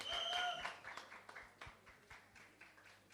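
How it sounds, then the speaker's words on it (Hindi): Scattered applause at a Mumbai song and game launch event as child performers come onstage, a brief burst of clapping that thins into a few isolated claps. "और जोरदार तालियां इन बच्चों के लिए यार।"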